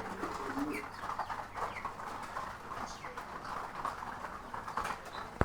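Soft, repeated cooing of pigeons nearby, layered with fluttering and faint background noise, ending with a sharp click.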